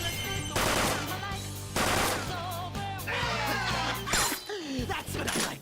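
Special-shot gunfire in Persona 5 Royal: a loud burst of shots with shattering, crashing impacts over battle music, followed by short effect swooshes, all close and dense.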